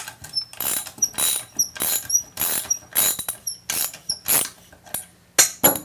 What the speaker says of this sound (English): Then I loosen that bolt where the load is now on the pin.